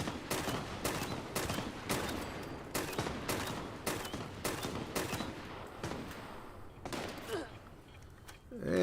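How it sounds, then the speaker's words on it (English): Grenades explode one after another in the Fallout 76 video game, a rapid run of sharp blasts in a steady rhythm that thins out toward the end, with a voice briefly talking. "We'll go ahead and start with a volley of grenades."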